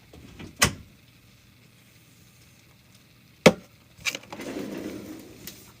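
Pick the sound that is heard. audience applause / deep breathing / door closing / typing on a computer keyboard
door closing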